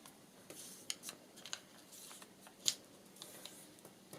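Scissors snip through paper while book-page pockets are trimmed for a journal project, a series of faint, crisp, irregular cuts close by with small rustles between them.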